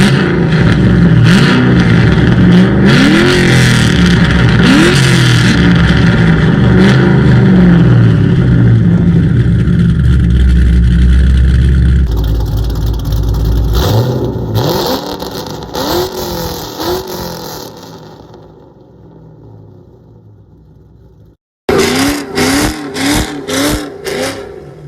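A straight-piped, cammed 3-valve Ford Mustang V8, very loud and close, idling with a choppy lope and then revving hard in repeated bursts, with a brief cut before a final run of sharp blips.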